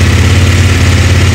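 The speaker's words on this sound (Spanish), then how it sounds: "Vamos a ver si podemos apreciar cómo suena la moto." A CFMOTO 800NK Advanced motorcycle engine idling nearby, with a loud, steady low-pitched rumble that holds even throughout and has no voices over it.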